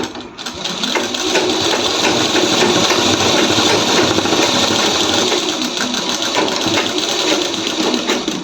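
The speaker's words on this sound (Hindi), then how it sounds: "अब देखिए इसको हम इस तरह से सिलाई लगा देंगे।" A sewing machine runs steadily, stitching a bottom hem to finish a fabric edge, with a continuous close whirring rattle that holds for several seconds without a break.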